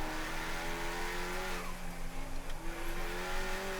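Race cars at Summit Point sweeping through the carousel on the last lap of a Labor Day race, engines droning and revving with a steady high whine and a shift in pitch midway, close and continuous with no talking.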